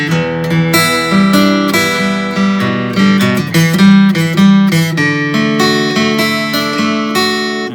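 A guitar plays the verse of a song, bright picked chord figures in a steady rhythm with bass notes underneath, close and loud throughout.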